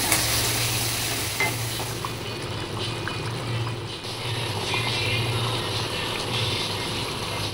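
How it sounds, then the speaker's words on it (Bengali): Chicken frying in a pan for a Bengali New Year feast, a continuous sizzle with occasional stirring clatter and a low steady hum in the background. "এখন এখানে আমাদের নববর্ষের চিকেন রান্না হচ্ছে তাদের জন্য"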